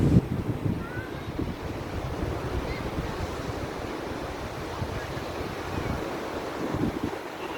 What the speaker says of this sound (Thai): ทะเลบ้านเพนะครับจุดเนี้ย